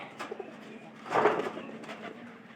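Domestic pigeons kept as pets give a soft, low cooing burst midway through, with quieter coos around it. They sound close but gentle, with no voices.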